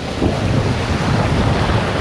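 Strong wind buffeting the microphone at a kitesurfing spot by a river, a steady, loud roar with rough gusty texture, no voices.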